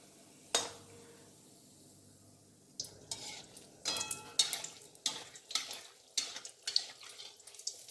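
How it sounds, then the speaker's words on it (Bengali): Malpua batter fries in white oil over medium-low heat with a soft sizzle, broken by sharp clinks and scrapes of a utensil stirring and turning the pieces in the pan. "আমি সাদা তেলে ভেজে নিচ্ছি।"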